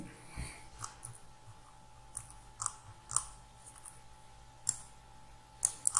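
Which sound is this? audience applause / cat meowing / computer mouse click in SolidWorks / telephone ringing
computer mouse click in SolidWorks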